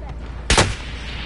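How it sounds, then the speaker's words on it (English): A single sharp burst of gunfire in the Modern Warfare video game, one loud close shot with a brief trailing echo standing out over a quiet background. "Yo, I'm taking fire!"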